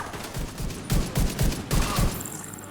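A weapon in The Division fires in repeated bursts, several loud booming shots spaced at an even rhythm, heavy and close, followed by a brief fading mechanical whine.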